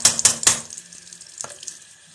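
Water splashes from a sink tap in a few quick bursts, then runs more softly as the tips of someone's hair are wetted, close and fairly loud.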